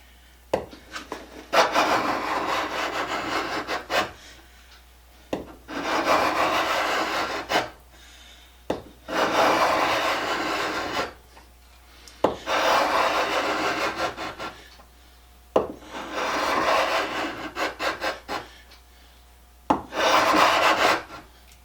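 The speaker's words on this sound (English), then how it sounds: "you rub this side and make a hook, and you rub that side and make a hook." A steel scraper blade edge is rubbed to raise a hook, making six long rasping strokes separated by short pauses, close and loud with no talk.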